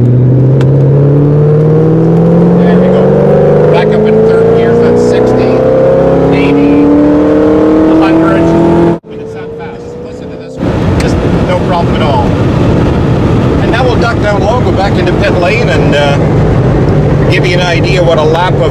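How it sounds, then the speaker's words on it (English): Ford GT40 race car on a hot lap of Homestead-Miami Speedway, loud close engine revving and rising through gears, a brief dip in the middle, then sustained high-speed roar. "What a lap of the Homestead-Miami Speedway is like in a Ford GT."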